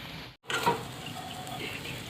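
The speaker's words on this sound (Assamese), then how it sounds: "এনেকৈ অকণমান সময় ভাজি লওঁ যাতে আলুৰ পানীখিনি শুকাই যায়" Mashed potato frying in a pan to dry out its moisture, a soft steady sizzle close by after a brief gap, with a faint scrape of stirring.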